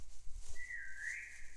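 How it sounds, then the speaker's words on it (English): Whistling voices in a Roblox backrooms game session, one long rising then steady whistled tone lasting about a second, fairly clear over low background rumble and a brief thump at the start. "Why y'all whistling already,"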